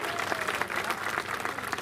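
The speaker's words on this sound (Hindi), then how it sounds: "उनके लिए भी जोरदार ताली बजा दीजिए" Loud, sustained applause from an audience at a political gathering in India, dense clapping filling the whole stretch with a steady crowd roar and no voice on top.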